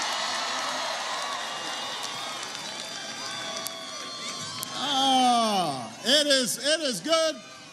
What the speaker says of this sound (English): give Patrick a big round of applause for that great introduction